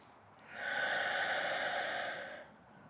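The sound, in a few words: deep yoga breathing out through the open mouth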